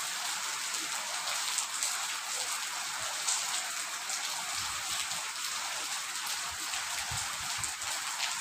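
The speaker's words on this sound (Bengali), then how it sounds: "প্রচুর বৃষ্টি পড়ছে।" Heavy rain pours steadily onto a rooftop, a dense, even hiss of countless drops that stays loud and unbroken throughout, with no voices.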